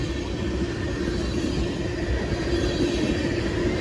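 A Norfolk Southern freight train rolls steadily past in a continuous loud rumble with low wheel and rail noise, close and unbroken throughout, with no voices.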